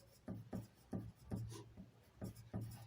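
A pen or pencil writes on a paper plan drawing of a school building, making short scratchy strokes in a steady rhythm, close and faint, with no speech.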